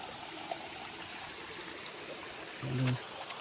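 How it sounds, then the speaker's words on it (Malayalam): A small forest waterfall stream, low in summer, along the Agasthyarkoodam trek in Kerala's Agasthyamala hills: a faint, continuous trickle and babble of water, with a short tonal sound rising over it near the end. "അതിൻ്റെ ഉള്ളിലൊരു ചെറിയൊരു വെള്ളച്ചാട്ടം പോലെ ഉണ്ട്."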